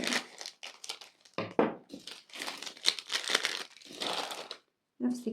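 A plastic product bag is torn open with loud crinkling and tearing bursts around a quiet speaking voice, the rustling coming in short close bursts between phrases.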